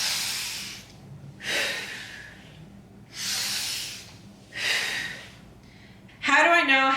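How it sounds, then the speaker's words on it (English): Heavy breathing during a sandbag squat, with four slow, loud breaths in a steady rhythm, close to the ear, then a short vocal sound at the end. "Now I want you to pay attention to my breathing."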